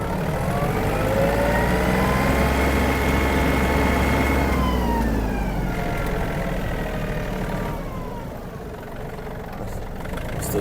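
A Yanmar RS-27 mini tractor engine runs in third gear with a steady mid-pitched drone and whining gear tones that rise and shift as it changes speed, heard close throughout.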